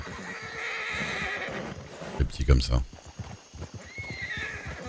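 A small, nervous chestnut horse lets out a loud whinny in the middle, with hooves clip-clopping around it, while people talk in French nearby before and after.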